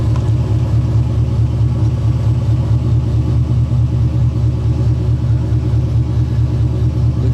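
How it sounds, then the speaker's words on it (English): A GMC Sierra 1500 custom pickup truck idles steadily nearby, its engine and exhaust giving a loud, even, throbbing rumble that holds without a break for the whole stretch. "I don't know what kind of exhaust we have on here, but it sounds pretty good."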